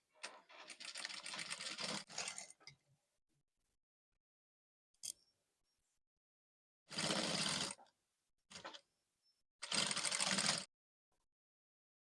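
Sewing machine stitching around a corset lining: short runs of dense mechanical whirring, one longer run of about two seconds, then bursts of about a second each with pauses between, fairly quiet and with no talk.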